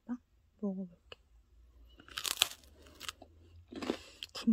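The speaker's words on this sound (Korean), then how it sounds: "바게트 마늘빵 먹어볼게." A crunchy Paris Baguette garlic baguette is bitten and chewed up close, with sharp crackling crunches and softer chewing. Brief vocal sounds come before the bite.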